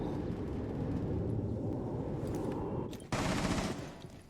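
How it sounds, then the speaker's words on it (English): Rapid bursts of gunfire in the Rainbow Six Siege video game fill the whole clip, dense and loud, with a brief drop just past three seconds before another heavy volley. "Farmer Colin hears the gunshots from Mozzie"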